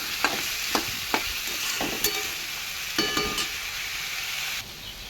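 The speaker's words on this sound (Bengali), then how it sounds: "যার কারণে আমি আলুটাকে একটু ভেজে নেব" Potatoes frying in a pan while cooking a prawn dish, a continuous close sizzle broken by several sharp stirring scrapes and clinks of a spatula.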